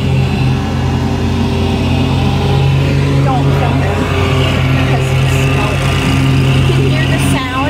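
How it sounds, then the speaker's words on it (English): Lawn mower engine running at a zoo, a steady droning hum heard from a ride on the zoo train, continuous and fairly loud with faint voices mixed in. "Here's a guy mowing."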